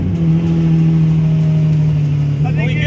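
A car engine idles and revs steadily with a loud, continuous low drone, rising slightly near the end, close by with no talk over it.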